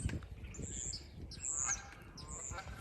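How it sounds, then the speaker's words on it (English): Several geese honk in repeated calls at a distance, over a faint background of rustling and other birds. "Yeah, I hear some geese coming in."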